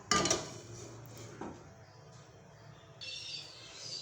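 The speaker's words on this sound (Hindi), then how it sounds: "हमने चूल्हा ऑन किया, इसके ऊपर इस तरह का एक पैन रखा।" A metal pan set down on a kitchen stove, a sharp clank at the start followed by a softer knock, then a quiet faint hiss in the background.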